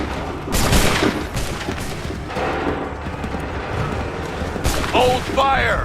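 A musket volley fires on command in the Assassin's Creed III video game, a dense booming crackle of many shots across the clip with shouted commands over the top.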